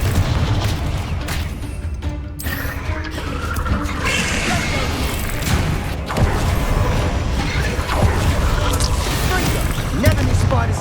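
A Confringo spell explodes in Hogwarts Legacy with a booming blast and rumbling debris inside a thick, continuous wash of game effects and noise.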